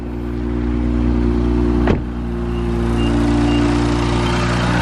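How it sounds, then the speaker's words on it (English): An Infiniti Q50 engine idles loud and close with a steady low hum, a brief click or jolt near the middle, then settles back into the same even running. "you guys are going to want to turn the car on"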